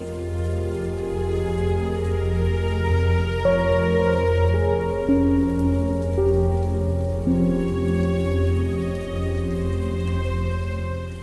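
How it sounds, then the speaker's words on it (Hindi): Steady rain falls under a sustained, tonal backing of drama-score music that runs through the whole stretch at a fairly loud, even level, with no talking. "या अल्लाह, ये बारिश कब रुकेगी?"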